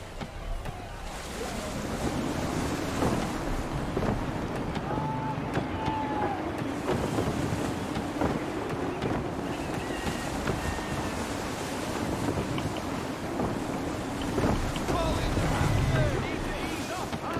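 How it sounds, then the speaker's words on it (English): Gusty wind rushing over a sailing ship at sea in the Assassin's Creed III game, with steady wind roar, waves washing against the hull and creaking, while characters speak over it. "Gusty winds can be difficult to manage."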